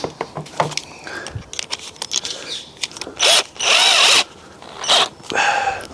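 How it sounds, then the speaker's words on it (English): Power drill boring a hole for a cable tie to hold a car's daytime running light, with several short bursts of loud whirring between clattering handling noises, close by and without speech. "So I'll drill that hole through there now."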